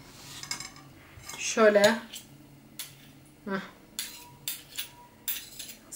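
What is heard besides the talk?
spoon clinking while adding store-bought tomato paste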